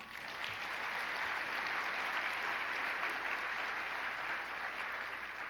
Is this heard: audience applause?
yes